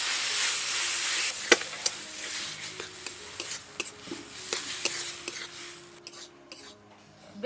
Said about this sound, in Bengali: এবার খুব ভালোভাবে এর সাথে মিশিয়ে নেব।